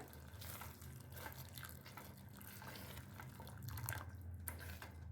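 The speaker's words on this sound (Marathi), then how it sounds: "इथं मी अर्धा कप गरम पाणी करून घेतलंय ते या मसाल्यामध्ये घालून घेऊया" Half a cup of hot water is poured into a dhaba-style paneer masala, making a steady, close pouring and trickling splash that continues without pause and with no talking.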